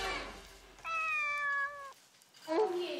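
A cat meows indoors, giving one clear, sustained tonal meow followed by a shorter, rising call, faint and close, with a little background voice at the start.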